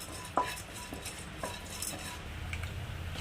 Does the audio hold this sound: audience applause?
no